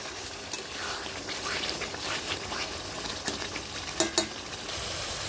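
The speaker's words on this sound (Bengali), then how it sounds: "এর মধ্যে আমি এই যে গোটা রসুন দিয়ে দিলাম, হালকা একটু জাস্ট কষিয়ে নেব আমি।" Whole garlic cloves sauté in a pan for duck curry with a soft, steady sizzle and hiss. A few brief clinks and scrapes of stirring come near the end.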